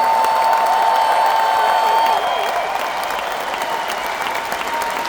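A crowd at a motivational event in Edmonton claps loudly and shouts, a dense roar of applause with scattered cheers and a steady tone underneath, easing slightly partway through.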